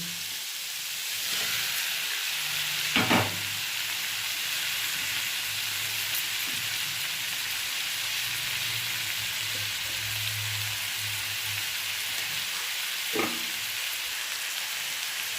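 Sliced ridge gourd and slit green chillies frying in a pan, with a steady loud sizzle that runs throughout and a few brief clinks of a spoon against the pan.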